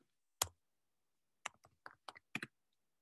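Sparse keystrokes on a computer keyboard: one isolated tap, a pause, then a quick cluster of about eight soft clicks, close and quiet against near silence, with no voices.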